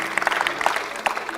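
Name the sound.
applause for the quiz winner Afnan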